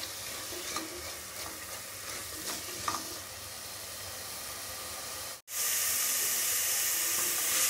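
Onions sauté in a pan for mushroom biryani with a low, steady sizzle and occasional stirring clinks, then after a brief cut a brighter, louder hiss takes over; nobody talks.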